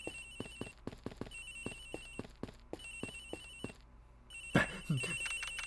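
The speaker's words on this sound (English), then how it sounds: "Oh, it's Agent Hicks's phone! It's ringing from somewhere, sir!" A cell phone ringtone rings in a repeating pattern of sharp, bright tones inside the Ace Attorney Investigations video game, continuing for several seconds before a louder sweep of sound cuts in.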